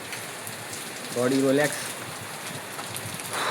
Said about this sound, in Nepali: पानी पर्यो सरर छाना बज्यो गरर